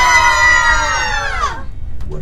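A tour group on a ghost tour in St. Augustine, Florida, screams together on cue, one loud close burst of high mixed voices that slides downward and cuts off abruptly, followed by a moment of quiet.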